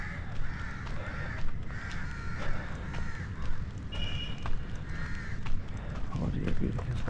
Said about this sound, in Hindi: एक कौओं की भी आ रही है,